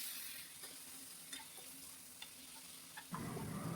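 Chillies, onion and tomato frying in a pan for channa masala, a steady close sizzle with a few scraping stirs of a spoon, the hiss swelling louder near the end.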